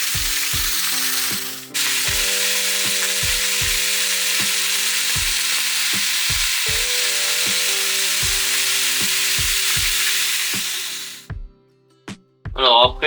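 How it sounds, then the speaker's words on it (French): Beef pieces searing in a hot pan for carbonnade flamande, a loud, steady hiss of sizzling fat filling the clip before cutting out near the end, with a rhythmic beat of music underneath. "il faut saisir la viande pour la colorer simplement"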